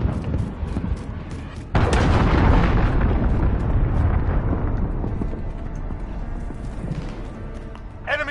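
A cruise missile strike in Call of Duty: Modern Warfare online play, with a sudden loud, close blast and a long rumbling roar that slowly fades over several seconds, amid scattered gunfire.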